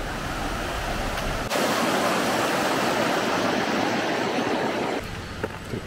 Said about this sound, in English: Looks like they even have a flowing river here too.